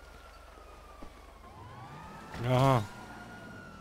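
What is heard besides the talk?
police car siren in GTA V video game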